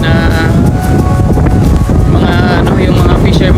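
Strong wind buffets the microphone on an overcast beach, a loud constant roar throughout, with a voice talking underneath.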